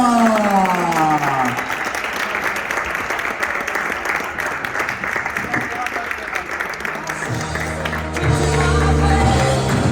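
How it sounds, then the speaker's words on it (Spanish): Loud ovation from a crowd at a karting event welcoming the champion, dense sustained applause across the whole span with an engine-like drone and melodic tones underneath. "se hace el silencio para recibir con una fuerte ovación al campeón"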